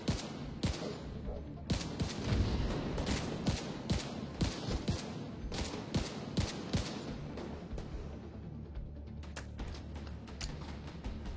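Rapid bursts of chain gun fire in a video game, with sharp repeated shots and explosions crowding the mix, loud and close, running continuously with only brief lulls.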